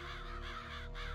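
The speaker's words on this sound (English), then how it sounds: "there's a lot of crows there for whatever reason" Crows caw repeatedly in a rough, rhythmic series at a video game's insane asylum in Psychonauts, fairly faint and steady with no talk over them.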